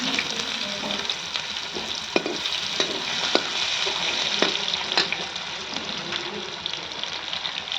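Garlic, ginger and green chillies crackle and sizzle in hot oil with a pinch of asafoetida, a dense continuous hiss close by, with occasional sharp pops and light stirring clicks.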